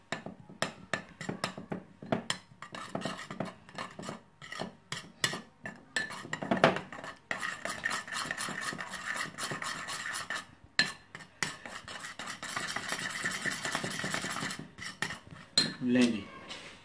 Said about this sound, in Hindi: ऐसे अच्छी तरह मिक्स करके पेस्ट बना लें